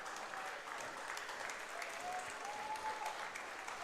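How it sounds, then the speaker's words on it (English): Baseball fans at a London Majors game clap steadily in the top of the ninth, giving a continuous patter of applause that sounds fairly distant, with a faint tone running underneath. "Fans trying to cheer on Daniel Gore here in the top of the 9th"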